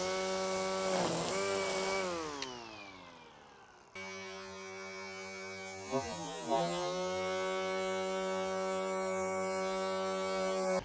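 A DeWalt DCST972 cordless brushless string trimmer whines steadily at high speed, with its pitch dipping briefly around each bump of the head against the ground that feeds out more line, then recovering to a steady hum.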